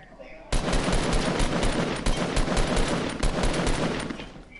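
Rapid automatic gunfire from a video game shooter, a dense, loud burst of shots starting abruptly and continuing steadily, with faint voice chatter underneath.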